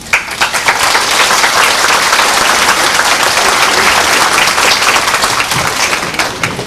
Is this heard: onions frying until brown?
no